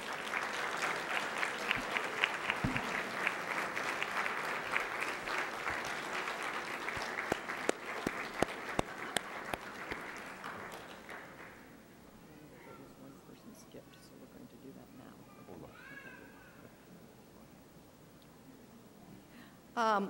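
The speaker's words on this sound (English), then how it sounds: "give a round of applause to family, friends, and faculty who have helped you to be here today" Sustained applause from a large audience at a graduate studies convocation fills the first half, then fades to scattered claps and quiet murmuring with a few faint voices.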